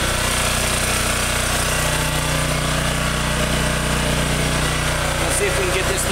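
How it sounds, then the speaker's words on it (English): A portable generator runs loudly and steadily, a constant buzzing engine drone that fills the whole stretch with no pauses, with faint voices under it. "Okay, so I went and got the generator."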